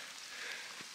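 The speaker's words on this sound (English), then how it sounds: "It's raining now." Rain falls steadily at a campsite on a truck camping and kayak fishing trip, a soft continuous hiss with no voices, one brief low patter near the end.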